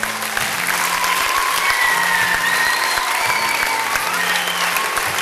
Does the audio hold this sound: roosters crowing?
no